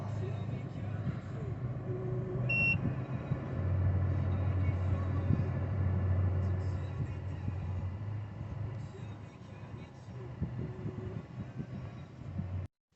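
A Citroen C3 HDi diesel engine is started and then idles steadily, giving a continuous low rumble that stays fairly level throughout with no talk over it.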